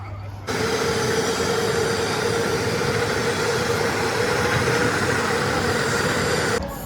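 A train arriving at a station rumbles past close by with a steady, loud roar of wheels and engine, starting abruptly and holding level until it cuts off.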